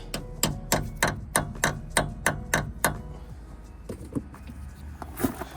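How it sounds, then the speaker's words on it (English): Hammer tapping a rusty front brake part on a Ford Transit 250 gives a steady series of about ten sharp metallic knocks, then a few softer scattered taps. "because this is a little rusty, I like to just kind of tap it a little bit"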